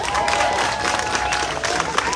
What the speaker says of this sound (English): Give it a round of applause from everyone